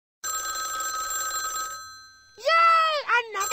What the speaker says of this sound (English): Yay! Another phone call.